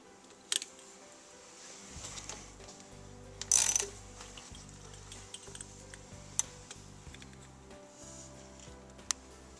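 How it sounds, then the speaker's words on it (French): Ratchet clicking while tightening the track tension on a snowmobile, a run of quick mechanical ticks at close range with a few louder clanks. "Peut-être un petit coup de ratchet encore"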